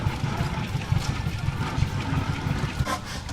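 An antique gas engine runs at an engine show, a steady low rhythmic chugging with regular pulses and faint mechanical clatter throughout, no talk over it.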